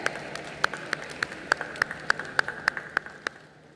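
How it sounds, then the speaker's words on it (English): An audience at the closing ceremony of the 53rd International Film Festival of India claps in a sharp, evenly spaced rhythm over a soft wash of background noise, and the claps fade away toward the end. "A round of applause, ladies and gentlemen."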